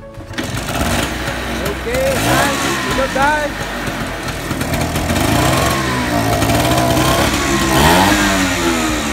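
An old Vespa Super 150 scooter engine, dormant for years and flooded with too much oil, sputters to life and revs unevenly in a workshop, its rasping buzz rising and falling while people talk nearby.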